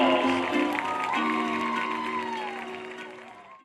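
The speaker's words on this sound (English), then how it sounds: "would you send them out with your applause?" Audience applause in an arena at a horse show, steady clapping spread through the crowd beneath sustained tones, fading slowly toward the end.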